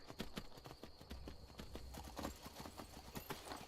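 Horse hooves clip-clop steadily in Skyrim, a quick rhythmic beat of close, even steps carrying on throughout with no voices over them.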